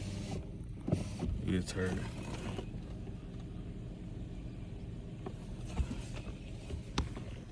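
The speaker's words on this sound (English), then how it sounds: "Nah, it's just idling." A Chrysler 300 with a cracked thermostat idles in a low, steady rumble, with occasional clicks and a voice briefly over it.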